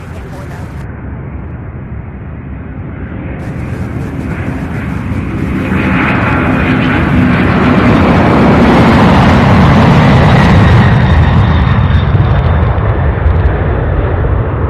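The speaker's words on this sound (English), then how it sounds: "Here we go, MD-11." An MD-11 jet takes off at Louisville's UPS Worldport, its engine roar building from a steady rumble into a loud, sustained thunderous blast that holds near and powerful.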